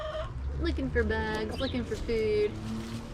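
Free-ranging backyard chickens scratching around and clucking in short bursts close by, mixed with a person talking over them throughout.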